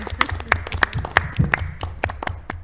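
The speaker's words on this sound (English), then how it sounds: "A round of applause for them." A small gathering at a school building committee meeting gives a brief round of applause, sparse individual claps at an uneven rhythm, close and moderate in level, with murmured talk underneath.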